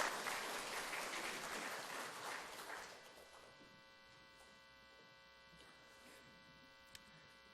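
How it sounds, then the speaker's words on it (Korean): Applause from a church congregation after a choir anthem during a Sunday worship service, fairly full for the first few seconds, then fading away into a steady electrical hum. "우리 하나님께 박수로 영광 돌리겠습니다"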